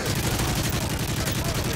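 Rapid gunfire in the video game Call of Duty: Modern Warfare 3, a dense continuous burst of loud automatic shots throughout.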